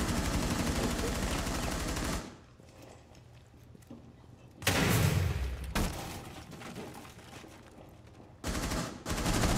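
Gunfire in the Rainbow Six Siege video game: loud sustained bursts of automatic shooting fill the opening two seconds, then a short heavy burst near the middle and another at the end, with quieter game ambience between.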